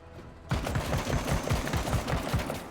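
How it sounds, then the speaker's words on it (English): Rapid bursts of automatic gunfire in the video game Menace, fired against a light APC, start abruptly and continue in a steady, rattling rhythm, loud and close, with no talking. "Some gunfire against our light APC is fine"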